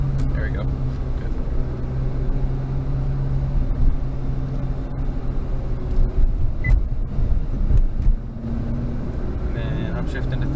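A heavy Nissan GT-R Nismo driving and braking on a track, engine droning steadily and then easing off as it slows, with brief mechanical clicks and a person talking over the vehicle noise.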